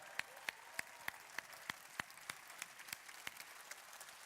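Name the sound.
applause for the prime minister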